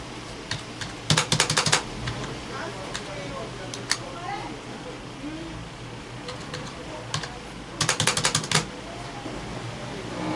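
Bursts of computer keyboard typing, quick clustered clicks near the start and again later, with stretches of quieter room noise between; someone talks at points while working on a table in Microsoft Word.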